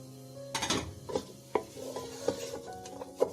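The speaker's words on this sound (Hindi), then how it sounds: "और इसको मैं थोड़ा सा सौटे करूंगी" Cabbage, carrots and capsicum sautéed over full heat in a pan, with a steady sizzle beneath several sharp spatula scrapes and knocks against the metal, close and fairly loud, no voices.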